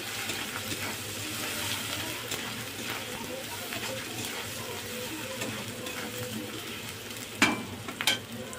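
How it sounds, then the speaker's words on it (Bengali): Chilli and turmeric powder sautéing in a pan: a soft, continuous sizzle with faint stirring scrapes, ending in a couple of sharper clinks near the end. "এবার আমি ওর মধ্যে লঙ্কা হলুদ গুঁড়োটা দিয়ে দেবো। দিয়ে অল্প একটুখানি কষিয়ে নেব।"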